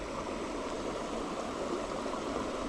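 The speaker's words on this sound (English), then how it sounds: "we sitting at the top of this little waterfall" A small creek waterfall pours steadily in a continuous broadband rush, close and unbroken, with no voices.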